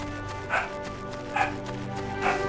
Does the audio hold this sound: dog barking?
yes